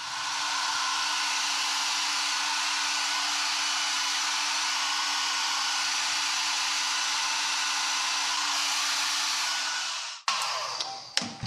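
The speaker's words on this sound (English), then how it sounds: "I'm going to use the hair dryer to set the curl" A hair dryer blows a steady, loud whoosh while setting the curl of a handlebar mustache, running continuously and then clicking off near the end with a few handling knocks.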